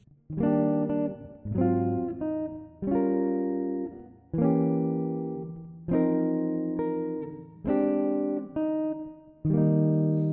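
A jazz guitar plays the turnaround of a song in sustained chords, struck roughly once a second or so, each ringing warmly before the next change.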